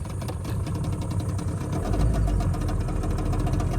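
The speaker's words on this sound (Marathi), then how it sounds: "आता चालू होईल बोट" A boat engine cranks and catches, then settles into a steady, loud low rumble that builds partway through and keeps running alone without speech.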